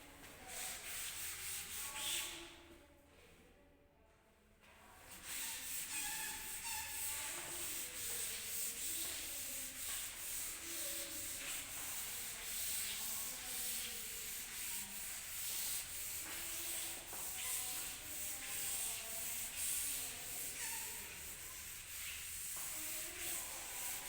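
Steady rubbing of an eraser or duster across a classroom board, a continuous scratchy friction that runs for most of the stretch with a brief pause near the start, fairly close and with no talk over it.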